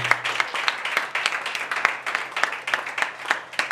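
A congregation applauds for Jesus during a prophetic festival service in Cameroon, giving a continuous wash of many hands clapping at close range that holds steady without a break.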